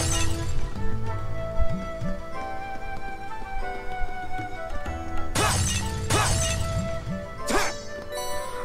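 In the Trails of Cold Steel video game, objects are smashed with a sword. Several sharp shattering crashes arrive close together over game music, with no talk.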